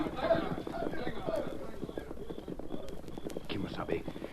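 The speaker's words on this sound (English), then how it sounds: "Get on your horses." Clip-clop hoofbeat effect of horses galloping in an old 1942 radio western drama, rapid rhythmic hooves under and between spoken dialogue, fairly faint.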